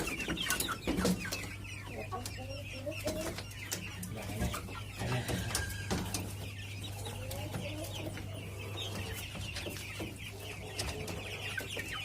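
Pelung chickens cluck and call from a coop on a small plot, with repeated close clucks and sharp calls over a steady low hum and no talking.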